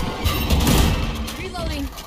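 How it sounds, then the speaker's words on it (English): A grenade goes off in Valorant during Raze gameplay, a loud, dense burst of blast and crackle that rumbles and fades over about two seconds, with game voice callouts layered through it. "Grenade!"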